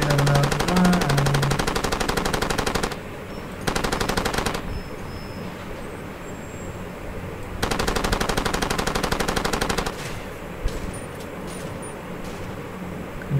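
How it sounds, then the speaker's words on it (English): Sustained machine-gun fire in Far Cry 2, rapid continuous bursts of several seconds each, broken by short pauses and followed by quieter background game noise. "start unloading the weapon"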